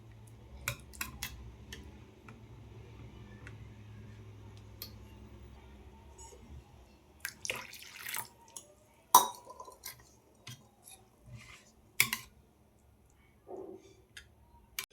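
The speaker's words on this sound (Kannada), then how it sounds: "ಇವಾಗ ಚೆನ್ನಾಗಿ ಮಿಕ್ಸ್ ಮಾಡ್ಕೊಂಡು ಇಟ್ಕೊಂಡ್ಬಿಡೋಣಂತೆ" Semolina is being mixed with milk in a cup, giving sparse, quiet clinks and taps of a spoon against the vessel with gaps of near silence between them.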